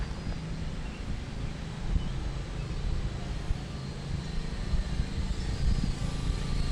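A P10 Pro Max drone flying outdoors gives a steady, broadband whirring hum that holds evenly throughout, mixed with wind noise against the microphone and no talk.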